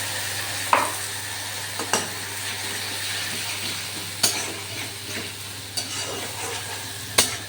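A spoon stirs mustard-poppy paste over sizzling onion and garlic in a pan; a steady fry hiss sits under about five sharp scraping knocks spread irregularly across the stretch, with no speech.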